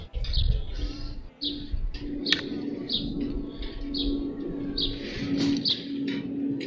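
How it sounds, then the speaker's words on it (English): Birds chirp in repeated short, bright calls over a steady outdoor background while someone paints live outside, with a low coo-like hum and occasional rustle beneath, neighbors faintly present. "Because that's what really brings my paintings to life, is birds chirping."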